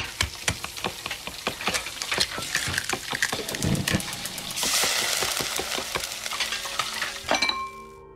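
Cooking in the Resident Evil Village video game, preparing bird and beast pilaf and pork ciorba, with rhythmic stirring clinks and scrapes, a rising sizzle of frying in the middle, then a closing chime, all without talk.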